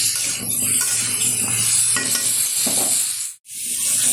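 Pumpkin, potato and tomato are stirred in a pan for a Bengali pumpkin curry with hilsa fish head: loud, close scraping and shuffling over a steady sizzle, with a short break near the end.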